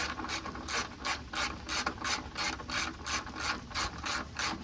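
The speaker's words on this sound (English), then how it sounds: "we're taking out this 10mm that is a screw here on the front side that holds in this body trim" A hand ratchet backs out a 10mm screw holding body trim on a 1996-2002 third-generation Toyota 4Runner, clicking in a quick, even run of about a dozen strokes, close and clear.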